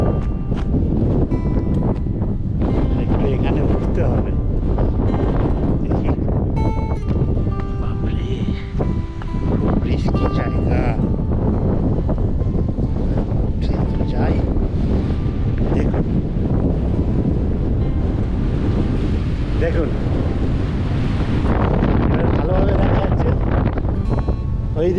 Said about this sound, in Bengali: চারিদিকে সাগর সমুদ্র